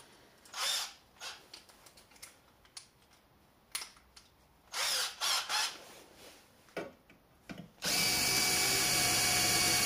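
A power drill runs in short bursts in a home workshop, stopping and starting in uneven spurts before a final sustained whir that continues loud to the end.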